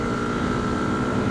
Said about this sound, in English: giving the bike a bit of a test ride with its new aero exhaust on to see how she goes